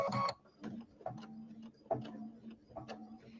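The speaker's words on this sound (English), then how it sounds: "I'm going to stitch this line up" Sewing machine stitching a seam along raw edges placed right sides together, with short bursts of clicking needle runs separated by pauses, close and moderately quiet, no talk.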